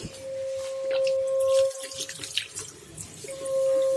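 Tap water runs steadily into a cupped hand at a household sink, a continuous close splashing with small drips, heard alone without talk.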